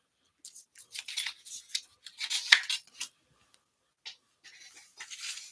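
Scissors snip out paper tags for a handmade sled card in a series of short, crisp cuts with brief pauses, the closing snips faint.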